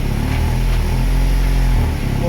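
A VW Golf 7R engine accelerates slowly with a loud, close, low droning hum whose tone holds steady and then dips slightly, with a voice speaking over it.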